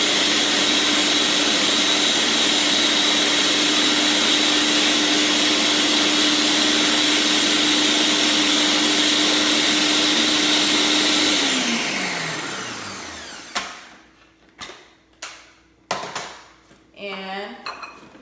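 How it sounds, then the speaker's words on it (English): A blender whirs loudly and steadily for about twelve seconds mixing a creamy mac and cheese sauce, then winds down and stops, followed by clinks and clatter of dishes and handling. "I like blending it in the blender because I'm making sure it is mixed very well"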